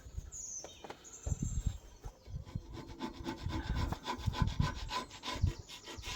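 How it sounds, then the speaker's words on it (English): Close scraping and rasping of dirt and rust off Land Rover Defender 130 TD5 axle parts in quick repeated strokes that speed up into a steady rhythm, with no talking. "just scraping dirt and rust out"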